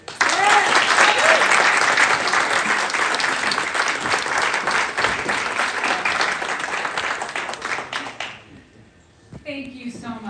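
Loud, sustained audience applause at an awards breakfast, dense clapping for about eight seconds that fades out, followed by a voice speaking.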